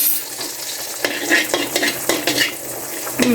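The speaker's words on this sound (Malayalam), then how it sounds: "വെളുത്തുള്ളി വട്ടം വട്ടം അരിഞ്ഞത് രണ്ട് മൂന്നെണ്ണം ഇട്ട് കൊടുക്കുകയാണ്" Two or three cloves of garlic sliced into rounds fry in a pan, giving a steady sizzle broken by several sharp scraping and clinking stirs of the utensil against the pan, close and fairly loud with no talking.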